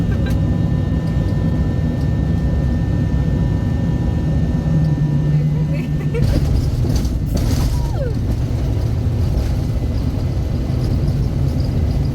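A passenger airplane landing in Mizoram, heard from inside the cabin as a loud, steady engine and air roar that fills the whole stretch, with brief mechanical thumps and rattles partway through.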